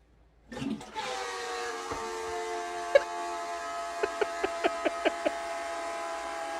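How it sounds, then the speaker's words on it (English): A household toilet makes a strange noise: a sustained, droning, whistle-like tone with several harmonics, then a quick run of regular rattling pulses near the end, all fairly faint. "Somebody tell me why my toilet sounds like this."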